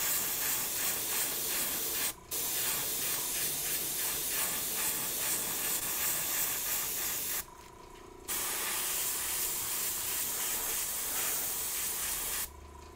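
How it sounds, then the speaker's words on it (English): An airbrush sprays paint onto an Air Force 1 sneaker in a continuous close hiss, cut by three brief pauses where the spray stops and restarts. "your airbrush, you want to shoot it at an angle where you're avoiding getting too much paint in that section"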